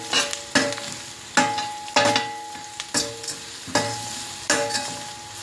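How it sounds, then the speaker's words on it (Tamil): Spices with garam masala are sautéed in a pan for carrot rice: a steady sizzle punctuated by about seven regular, close scraping spatula strokes roughly every three-quarters of a second, with no voices. "இது எல்லாத்தையும் கொஞ்சம் நல்லா வதக்கிவிடுவோம்."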